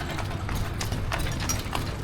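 A female horse in Tozeur, Tunisia clip-clops with a quick, irregular patter of hoof strikes on hard ground, fairly close, over a low background rumble.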